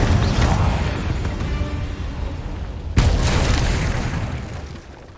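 A Confringo fire spell in Hogwarts Legacy goes off with a loud booming blast about three seconds in, a sharp crack followed by a rumbling tail, over dense continuous game combat noise.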